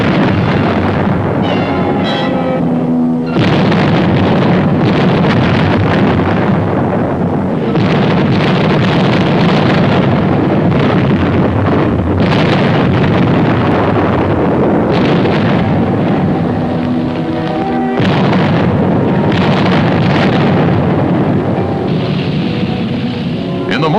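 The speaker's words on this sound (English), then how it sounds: "Our artillery engaged in a duel with enemy guns." Artillery guns exchange fire in 1944 France, heavy booms and rumbling blasts rolling at intervals under loud wind buffeting and rough old-film noise.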